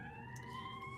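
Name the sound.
siren of an emergency vehicle outside a house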